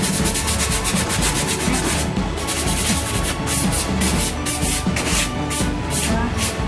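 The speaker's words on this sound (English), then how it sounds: "So you just go lightly sand it." Sandpaper rubs lightly over a wooden table being made over with chalk paint, a loud, close, continuous scratchy rasp in quick back-and-forth strokes.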